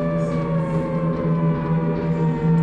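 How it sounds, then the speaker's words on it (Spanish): A loud, sustained wailing siren from the horror video game Silent Descent drones evenly and alone, its steady pitch holding throughout. "Las putas sirenas del Silent Hill."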